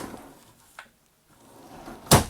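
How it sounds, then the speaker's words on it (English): A drawer in the closet of a 2020 Airstream Caravel 20FB travel trailer slides and bumps shut, with a faint soft movement first and then a sharp, close knock at the end, heard alone without talk. "And you get drawers."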